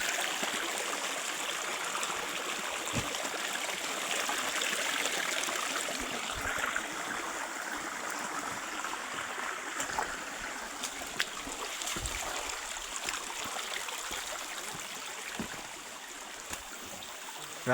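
Constant rushing of a swollen river, broad and steady, heard from nearby with no voices.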